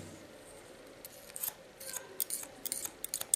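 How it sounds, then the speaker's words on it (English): Scissors snipping hair lifted over a comb during a summer haircut, a quick series of light, crisp cuts that quicken toward the end, close and fairly quiet over faint background hiss. "Get my comb under it and cut it."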